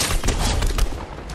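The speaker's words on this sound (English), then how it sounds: "Brendan, what are you shooting at?" Rapid bursts of video game gunfire crackle through a hectic squad firefight in a trios battle royale match, dense and loud for just over a second, with a sharp spike near the end.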